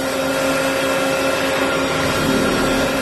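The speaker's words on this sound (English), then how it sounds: "The CBS cleaner is amazing. See the dirt coming right off." A CBS carpet cleaning machine drones steadily and loudly while extracting dirt from a heavily soiled commercial hallway carpet near an exit, a constant motor whine with steady tonal hum and no speech.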